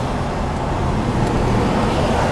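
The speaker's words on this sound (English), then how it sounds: "Look at this traffic." Steady roadway traffic with passing cars and heavier vehicles on a California street, a continuous close broadband rumble with no distinct pass-bys standing out.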